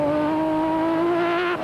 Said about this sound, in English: Woolridge had his work cut out trying to keep the Ford on the twisty track